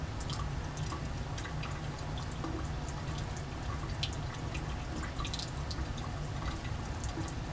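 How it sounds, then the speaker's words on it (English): Liquid drips slowly from an addition funnel into a Grignard reaction in a chemistry lab, faint irregular drops over a steady low hum of lab equipment. "Come back and the drip rate has slowed down."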